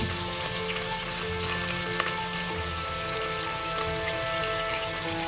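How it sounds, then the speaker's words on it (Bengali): Ginger-garlic paste, chilli and onion fry in hot oil, a steady dense sizzle filling the whole stretch with faint stirring clicks, close and loud with no talk. "এখন আমি সবগুলো ভালো করে ভেজে নিব"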